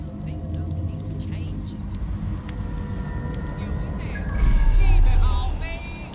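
A stolen Albion heavy assault vehicle driving in the Watch Dogs: Legion video game, a steady engine drone that swells louder near the end, with a voice talking over it.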